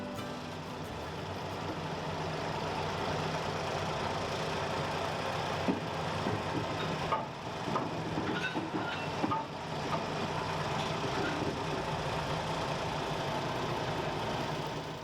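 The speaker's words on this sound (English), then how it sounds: "The first task of the day was to move a locomotive named Mr. D from the exhibition centre into the platform area ready for it to be worked on." A vintage 1967 TH186V diesel locomotive, once from a cement works and quarry, moved at an ironstone railway museum. Its engine gives a steady, loud rumbling drone throughout, with occasional clanks and knocks over it.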